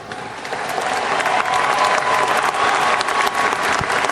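Sustained applause from a seated audience following a recorded speech line, rising within the first half second and holding steady at full, dense volume with no talking over it.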